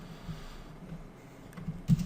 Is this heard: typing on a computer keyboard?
yes